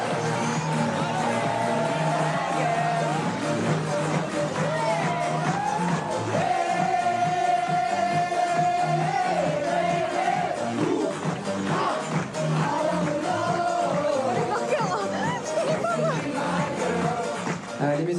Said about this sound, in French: je voudrais un tonnerre d'applaudissements pour eux